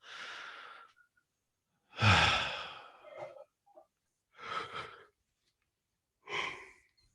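A person draws deep, slow breaths in and sighs them out during a guided relaxation session: four or five audible breaths, close and soft, separated by silence, with no words spoken.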